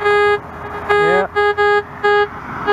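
A metal detector gives out a run of steady electronic beeps while someone searches through root-filled ground. The tones are clear and sustained and come in several separate pulses, with one warbling, bending tone partway through.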